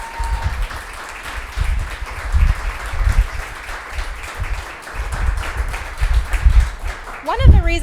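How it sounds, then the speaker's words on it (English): An audience claps in a loose, steady round of applause for a panel discussion, with murmured voices underneath and a brief whoop near the end. "let's give a big shout out and a big round of applause to our panelists."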